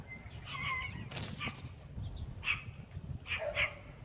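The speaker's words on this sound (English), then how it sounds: "What are you barking at?" Dog barks a few times at a distance, short sharp yelps spread across the clip over a low steady outdoor rumble, with no talking.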